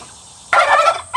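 Turkeys kept in a shaded pen: after a quiet start, one loud, close, rattling gobble bursts out, followed by a short second call.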